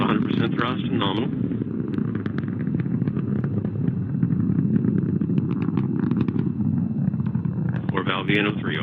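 Antares rocket first stage engine running at full thrust during launch, a continuous loud rumbling roar heard at a distance, with a person talking over it at the beginning and end.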